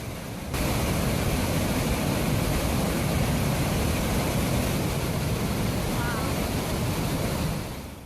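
Fast-moving floodwater of the Big Sioux River after heavy rain, a steady, loud broadband roar and rush of churning water with some wind buffeting, continuous from start to finish with no voices.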